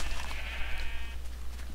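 Sheep bleating in the video game Minecraft: a single drawn-out, wavering bleat at close range, fading after about a second against a steady low background hum.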